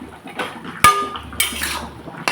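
Metal utensil scraping and clinking against a pan while hilsa fish and taro greens are stirred with green chillies, turmeric and salt, a few sharp knocks over soft frying noise.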